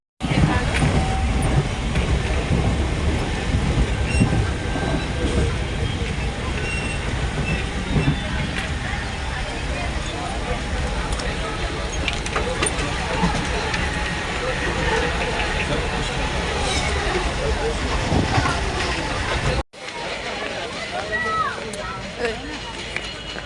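A Mumbai local train rumbles and rattles continuously on the ride to Kharghar station, loud and close, before cutting to a quieter stretch near the end.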